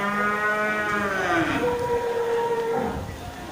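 Simmental cattle bellow at a cattle market, with a long, loud drawn-out moo with rising and falling harmonics filling the moment, against a crowded market murmur.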